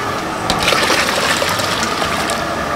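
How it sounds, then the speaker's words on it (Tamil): Lentil water is poured into boiling sambar, making a loud, continuous gushing splash of liquid close by. "அதனால் பருப்பு தண்ணியை ஊற்றிக்கலாம்."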